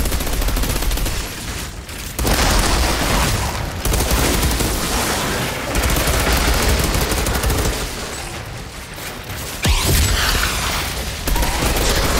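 Dense game combat in Outriders, with a rapid barrage of gunfire and heavy booms layered into a loud, continuous battle din that keeps surging and dropping throughout.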